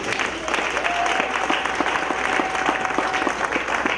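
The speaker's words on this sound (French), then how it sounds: "Est-ce que quelqu'un peut donner une acclamation pour nous?" A church congregation breaks into steady applause during a sermon, a dense sustained patter of many hands filling the room at moderate level, with a faint tone running through it.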